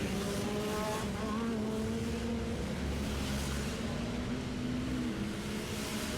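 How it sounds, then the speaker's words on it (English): Side-by-side off-road race cars roar around a track in a close pack, their engines droning loud and continuous while tires squeal faintly through the steady mix. "that big pack of cars as they come onto the front straightaway"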